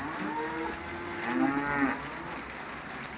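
Several cattle moo in overlapping low calls, with a steady hiss in the background.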